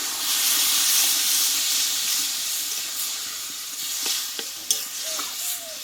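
Water poured into a pan of sautéed banana stem and papaya curry bursts into a loud steady hiss and sizzle, easing off with a few stirring clinks near the end.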